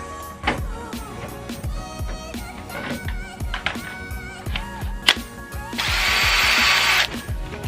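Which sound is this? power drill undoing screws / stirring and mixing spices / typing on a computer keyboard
power drill undoing screws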